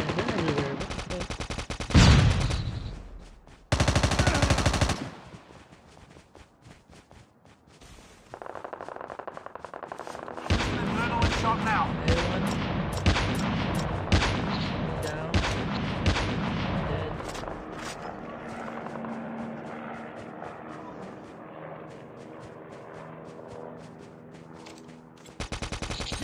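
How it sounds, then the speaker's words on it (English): Gunfire in Call of Duty Mobile battle royale, sharp loud bursts early then dense rapid automatic fire and crackling shots overlapping for a long stretch, some near and some more distant. "I hear shots"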